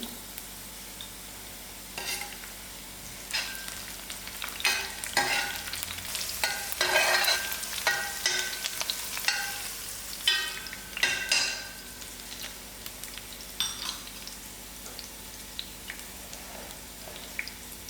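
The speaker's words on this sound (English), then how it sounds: "this half a teaspoon of mustard seed will also be added in" Mustard seeds and chilies fry in a hot pan for a sweet pumpkin curry, crackling and sizzling with intermittent bursts and popping, plus scrapes of a spoon stirring against the pan; nobody speaks.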